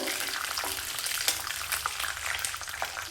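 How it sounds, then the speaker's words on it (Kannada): Peanuts and cashews frying in oil for vermicelli bath, a dense crackling sizzle close up with frequent small pops and stirring scrapes, fairly quiet, no voices. "ಇದೆರಡನ್ನೂ ಚೆನ್ನಾಗಿ ಫ್ರೈ ಮಾಡಿಕೊಂಡು ಹಾಕ್ಕೋಬೇಕು."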